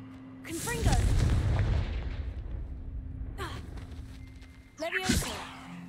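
The Confringo spell goes off in a Harry Potter video game as a booming, explosive blast with a rumbling tail, then two more sharp bursts follow a few seconds apart, loud and near.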